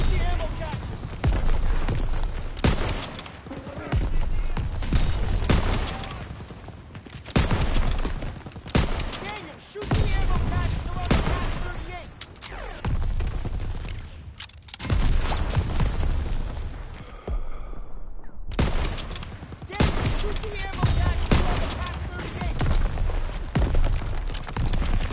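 Sustained heavy gunfire in the video game Call of Duty WW2 as ammo caches are shot, loud bursts and booms repeating almost continuously with brief pauses, voices talking underneath.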